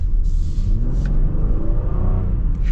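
A 2024 Honda Pilot HPD accelerating from inside the cabin, a steady low engine rumble with smooth rising drone and road noise throughout, moderately loud and continuous with no talking.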